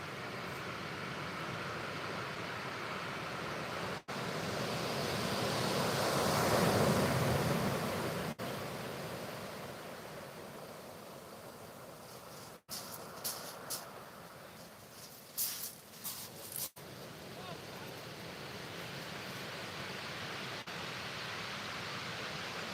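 A heavy sea swell washes ashore near a fishing camp, a broad continuous roar of surf that swells and eases, with a few brief clattering knocks midway.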